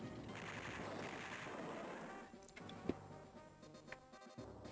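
A tank fires on another tank in the Advance Wars 2 strategy game, a quiet stretch of rapid rattling gunfire trailing off into a few scattered sharp pops.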